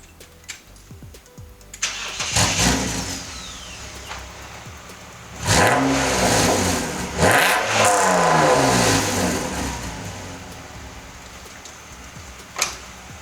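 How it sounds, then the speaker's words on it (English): A BMW fitted with a UUC exhaust cranks and fires up, then revs sharply several times before settling to idle, loud and close with no talking. "That UUC exhaust sounds good"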